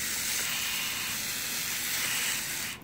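Foam tape splitter machine slicing 2 inch foam tape, a steady loud hiss-like whir running continuously, stopping abruptly at the very end.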